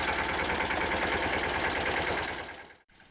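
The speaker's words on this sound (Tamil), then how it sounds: "டிராக்டர் மூலம் செக்கில் எண்ணெய் பிழிவதால்" Tractor engine driving a traditional wooden oil press (chekku) for extracting oil in rural Tamil Nadu, a loud, steady, rhythmically pulsing mechanical drone that cuts off abruptly near the end before resuming briefly.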